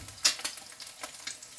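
Cooking oil sizzles in a frying pan for an egg sandwich, a steady crackling hiss with a few sharper pops, close and alone without talk.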